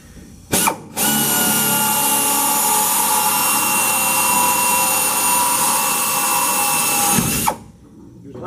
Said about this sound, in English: Then I'm going to drill a small hole right at the end of the crack.